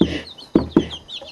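Chickens cluck on a farm chicken cam: two or three sharp, close clucks stand out over a steady background of softer hen chatter and faint bird calls.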